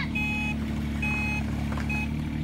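A toy digger sounds three evenly spaced high reversing beeps over a steady low engine rumble.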